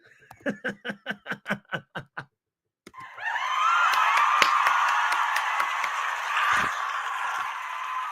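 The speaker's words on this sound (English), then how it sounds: "Insert applause" Inserted applause sound effect opens with a short run of sharp, rhythmic hand claps, then after a brief silence turns into steady crowd applause with cheering that carries on to the end.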